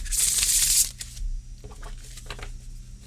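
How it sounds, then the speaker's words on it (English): A deck of tarot cards is riffle shuffled in one loud, close fluttering burst, followed by softer taps and rustles as the cards are squared and handled. "they say that 7 times shuffling riffle is the maximum randomization"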